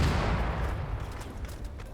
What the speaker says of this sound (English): Multiple shots going out though.